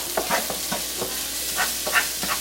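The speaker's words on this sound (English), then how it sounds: "Going to give this a good stir." Ground beef with a tablespoon of parsley stirred in a pan, a close, uneven run of scraping strokes over a steady background sizzle, with no one talking.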